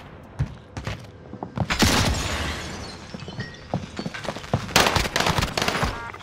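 Rapid bursts of gunfire in a shooter video game crackle and rattle close by, with dense volleys that swell and fade across the stretch and no talking over them.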